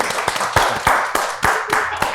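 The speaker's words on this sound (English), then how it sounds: "let's give a hand clap to the couple" A few people clapping hands during a podcast recording, a loose run of distinct, close claps at an irregular rhythm, fairly loud and lasting a couple of seconds.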